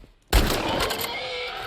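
A single loud, close gunshot from The Last of Us Part II video game bursts suddenly, then trails into a long rumbling echo with no talk.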